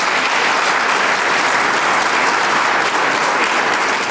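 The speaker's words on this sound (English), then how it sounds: "So let's give them the final clap." A conference audience at a summit welcome session gives the speakers a loud, dense, even round of applause that continues steadily throughout without any talk.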